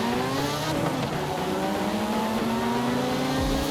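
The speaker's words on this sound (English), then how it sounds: "this thing really does kind of sound like a rotary" A race car engine in Forza Horizon 5 with a rotary-like tone revs hard and steadily through the gears, loud and close, with rising and falling harmonic whines and a brief tire squeal.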